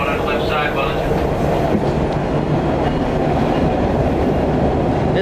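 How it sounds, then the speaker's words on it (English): An MBTA commuter train passes close by in Boston in winter, a loud continuous rumble with rail clatter and rolling wheel noise, steady throughout. "There's an MBTA train."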